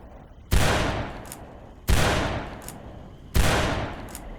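Gunfire in a History Channel first-person shooter video game: three loud, sharp blasts spaced about 1.4 seconds apart, each trailing off in a long rumbling decay, close and with no talking.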